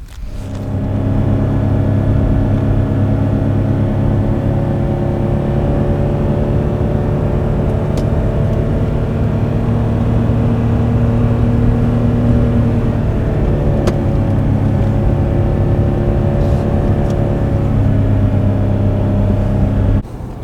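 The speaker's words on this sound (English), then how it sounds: "So we're headed down a steep section here into Death Valley." A vehicle driving down a steep, winding descent into Death Valley, a loud, steady engine and road drone with a low hum and faint shifts in pitch, heard from inside with no talking.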